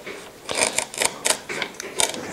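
Cutting out a herringbone strip for a classical guitar rosette, a series of short scraping, snipping strokes in an irregular rhythm, close and moderately loud with no speech.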